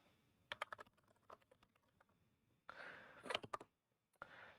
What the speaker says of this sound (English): I love the sound of the keyboard, by the way.